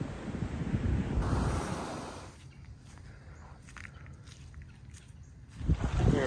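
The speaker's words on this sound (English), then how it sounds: "It's a whole beach all to myself." Surf washing onto an empty beach in the Everglades, a steady broad roar mixed with gusty wind buffeting the microphone, easing to a softer wash before a fresh swell near the end.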